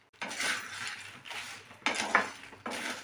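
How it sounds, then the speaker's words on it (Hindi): Dried chilies and whole spices for garam masala are dry-roasted in a pan, with repeated scraping stirs of a utensil across the metal in four distinct strokes, close and moderately loud. "मिर्च भी डाल देंगे, इसे हम सिर्फ 1 मिनट भुनेंगे बस"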